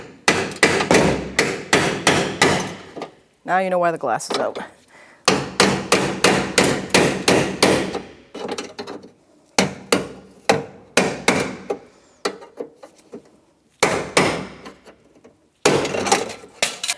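Sharp metallic hammer blows strike a chisel against door rivets on a 1992-1996 Ford F-150 in quick repeated bursts, with short pauses between volleys and a brief spoken remark in the middle.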